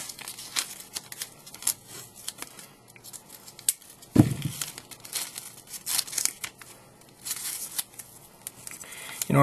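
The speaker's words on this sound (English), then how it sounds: "wrap the top of this stove with some painter's tape" Painter's tape rips and crinkles close by as it is torn and wrapped around the top of a homemade soda can stove, with several sharp tearing bursts and rustling between them.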